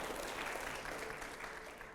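Audience applause at a televised political question session, a dense, even wash of clapping heard faintly and steadily throughout without any voices on top.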